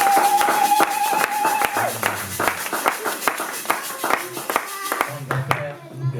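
A church congregation claps in bursts and cheers, sharp individual hand claps sounding close and uneven, mixed with voices and music throughout.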